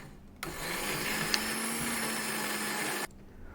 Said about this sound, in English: Place the leaf in a blender. Add about 250 ml or about 1 cup of water and grind finely.